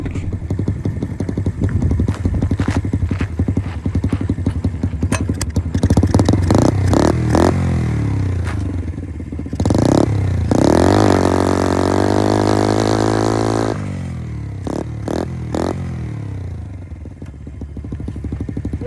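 Small, cheap 70cc pit bike engine running, a loud, close buzzy putter with clattering, revving up into a rising whine mid-stretch, then dropping back to a rough idle.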